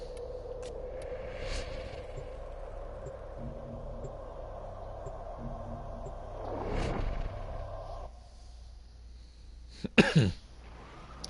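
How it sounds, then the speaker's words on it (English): A person coughs twice at close range, a short burst midway and a harsher, louder cough near the end, over a low steady background hum. "Excuse my coughing, I apologize."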